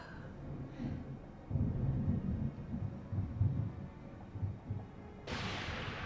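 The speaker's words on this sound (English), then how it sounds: "I'm afraid of thunder." Low rolling thunder rumbles in Deadly Premonition 2, a steady muffled growl that swells in uneven waves before a sharper crackling burst near the end, with no voices over it.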